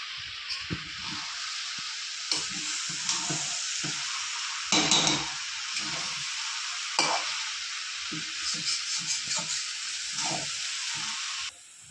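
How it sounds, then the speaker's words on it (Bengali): Chopped cabbage fries in a pan over low heat with a loud, continuous sizzle and hiss lasting about twelve seconds, broken by scraping stirring strokes and brief bursts of steam, with no voices. "ভালো করে একটু ভাজা ভাজা করে নিয়েছি, আবার একটু ভাপিয়ে আবার নেড়ে দেবো।"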